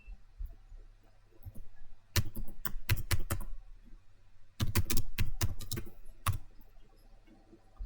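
Someone types on a computer keyboard in quiet bursts of close clicking keystrokes separated by pauses, faint and without talk.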